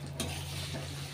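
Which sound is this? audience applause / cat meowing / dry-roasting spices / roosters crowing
dry-roasting spices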